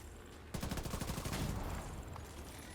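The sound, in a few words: G36 rifle gunfire in The Division 2 video game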